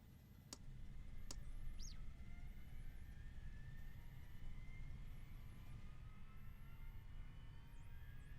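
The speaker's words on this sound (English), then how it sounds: "There's the sound of the jet pump." A jet pump runs in the cockpit of a Learjet 25 in the Prepar3D flight simulator, a steady low rumble and hum with faint rising whine tones, continuous for over eight seconds, with two brief clicks near the start.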